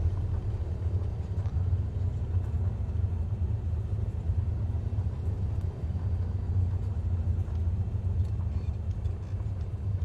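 A Cessna's piston engine idles at taxi speed in Microsoft Flight Simulator 2020, making a steady, close, droning rumble that holds level throughout with no voices.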